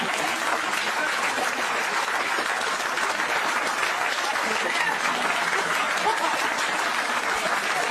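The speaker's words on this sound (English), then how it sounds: "thank you, applause for me." Sustained applause from an audience at a speaking event, dense and steady throughout at a fairly loud level, with no pauses.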